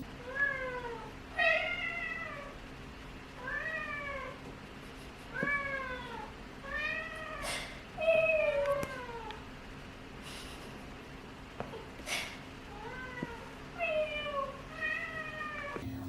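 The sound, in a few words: Ragdoll cat meowing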